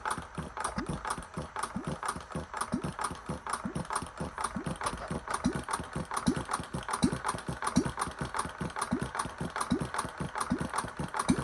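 A Debolt Stickney engine runs steadily after firing up, with a rhythmic, rattling, knocking idle that stays loud and constant throughout, and no talk over it.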